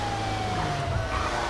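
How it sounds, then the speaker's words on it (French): A police siren from GTA V, a steady descending wail sounding over a loud engine rumble with the vehicle driving through traffic, continuous and close for the whole stretch. "Les routiers ne comprennent pas bien en fait que quand il y a la sirène, c'est qu'il faut se bouger."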